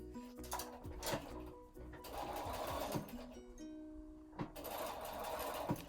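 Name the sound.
sewing machine stitching fabric binding around a lampshade curve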